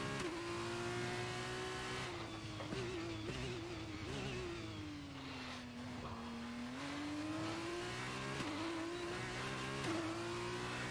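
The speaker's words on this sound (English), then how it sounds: "I gotta remember how to drive an F2 car again" Formula 2 race car from the game F1 23 at Bahrain, its engine droning steadily with pitch rising and falling through gear changes, loud and close with no talk.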